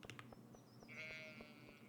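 A sheep in Stardew Valley lets out a single wavering bleat in the middle, with faint rhythmic footstep clicks throughout; quiet and alone, with no talk.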